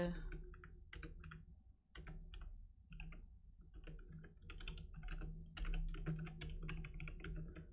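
Close, quiet bursts of clicking keys as someone types a title into Notepad on a computer keyboard, in short irregular runs with brief pauses between.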